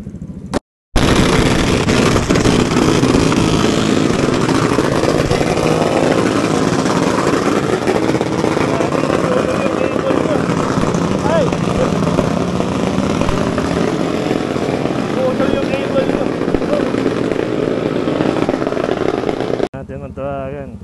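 A motorcycle engine revs hard on a New Year's night bombahan, a loud, continuous roar held almost unbroken for about twenty seconds before cutting off abruptly.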